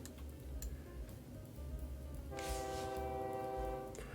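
Trains in the railway-building video game OpenTTD rumble through a busy game soundscape, then a steady horn-like tone sounds for about two seconds near the end, with no voices.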